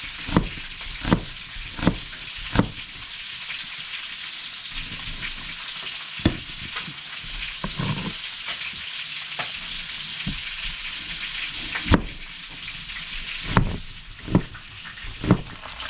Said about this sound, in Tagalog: Tapos na tayo magprito.